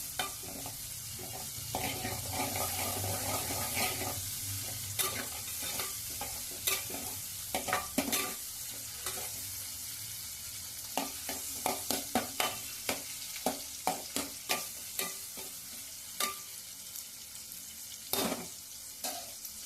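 Green beans and green chili stirring and frying in a pan, with a steady sizzle throughout and a run of sharp utensil scrapes and clacks against the pan in the second half.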